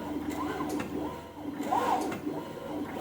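Teneth MC350E desktop plotter printing in red, its carriage moving with a repeating whirring sweep that rises and falls about once a second, moderately loud and close.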